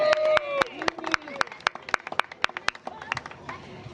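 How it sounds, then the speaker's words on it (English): A small outdoor crowd at a groundbreaking ceremony gives the community a round of applause. The scattered, uneven claps come through clearly, mixed with talking voices, and thin out toward the end. "the community is the one that really deserves a round of applause"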